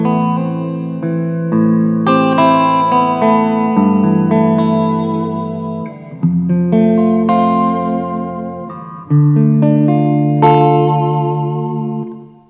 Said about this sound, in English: the first effect I've got set up is the room reverb